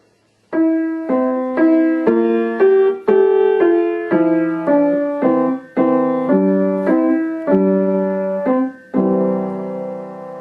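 A solo piano plays the last line of Beethoven's Ode to Joy, melody with an alternate left-hand accompaniment, notes struck one after another at a moderate, even pace, clear and close.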